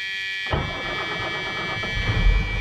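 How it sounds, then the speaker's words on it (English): A Class A truck's engine, heard from inside the cab, cranks and catches after a quiet moment, then settles into a steady, rumbling idle that swells slightly near the end. "And then go ahead and start your vehicle."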